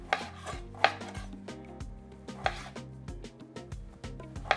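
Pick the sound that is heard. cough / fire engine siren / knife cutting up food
knife cutting up food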